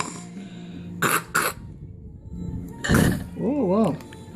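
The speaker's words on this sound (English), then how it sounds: "Coughing up." A young child coughs twice in short bursts while being fed through a belly tube, followed by a rougher cough and a brief high vocal sound, with faint background noise between.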